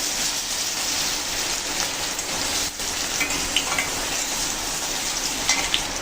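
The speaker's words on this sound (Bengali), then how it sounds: "আর আলুগুলো সুন্দর করে আমি ভেজে নেব।" Potatoes frying in oil in a pan for aloo dum, a dense, steady sizzle and crackle that holds at an even level throughout with a few brighter pops near the end.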